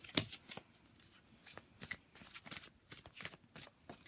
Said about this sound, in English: And I shuffle this, I try to shuffle it very reverently.